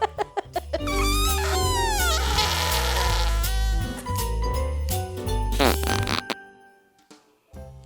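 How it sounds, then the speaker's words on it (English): Long, drawn-out fart with buzzing, wavering pitch that bends up and down for several seconds before sputtering into short bursts and trailing off. "Are you farting?"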